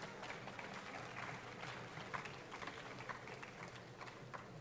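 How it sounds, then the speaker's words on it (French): Applause from an audience at a horse tourism award ceremony, a steady wash of many clapping hands at moderate, slightly distant level, continuous throughout with a few louder individual claps standing out. "Merci, on les applaudit."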